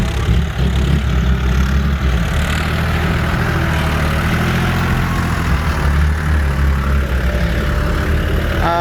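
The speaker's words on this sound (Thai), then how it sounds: "เครื่องยนต์สามสูบครับ" A John Deere 5055E tractor's three-cylinder turbocharged direct-injection diesel engine runs steadily at idle, a loud, continuous low rumble with throbbing, close by and uninterrupted throughout.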